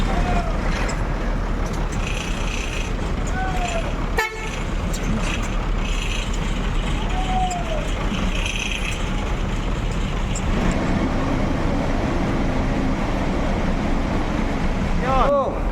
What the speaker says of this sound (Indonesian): Sepertinya bus-bus pada putar kepala nih.